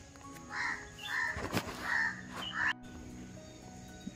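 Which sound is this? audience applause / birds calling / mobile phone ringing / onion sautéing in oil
birds calling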